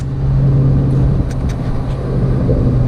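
A Toyota Tundra pickup fitted with 35-inch tires drives down the road, heard from inside as a steady loud engine and road rumble with continuous tire noise and no speech.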